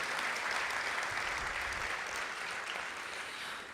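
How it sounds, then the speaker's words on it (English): Applause at an awards luncheon fills the room for an honoree, a loud, dense, continuous roar of many clapping hands that tapers slightly near the end. "let's show a wonderful round of applause again for Mr. Quincy Harris"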